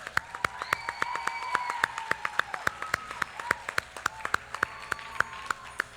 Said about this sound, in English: a round of applause for Sadhna Auntie